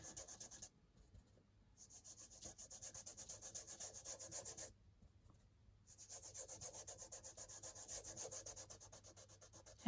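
Rhythmic soft rubbing strokes as wax paste is worked smooth over chalk paint on a journal cover, close and quiet, pausing twice before the back-and-forth scrubbing resumes.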